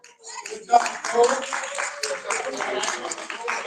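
Scattered audience clapping at a poetry slam, a small crowd's uneven bursts of hands with a few whoops mixed in, fairly close and moderately loud, tapering slightly over a few seconds.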